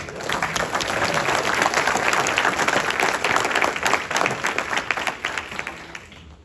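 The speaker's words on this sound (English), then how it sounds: "I'd just like to acknowledge you with a quick round of applause for the United States Army." Loud, full applause rises from the crowd at an Army retirement ceremony, a thick steady clapping that swells, holds for several seconds, then slowly dies away.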